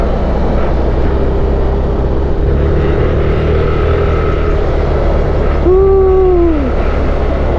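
Motorcycle riding along a road, its engine droning steadily under heavy wind rush, with a short tonal whine that swoops downward near the end.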